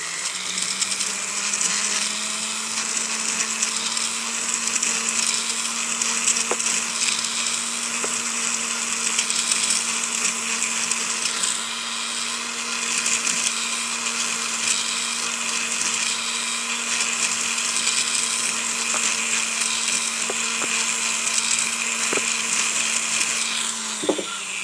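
A rotary tool smooths the inside of a ring, producing a steady high-pitched whine that holds continuously for the whole stretch at close range, with a few faint clicks along the way.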